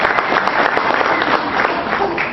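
Audience applause fills a hall of fame induction ceremony, a steady dense wash of clapping from a large crowd, loud and close throughout.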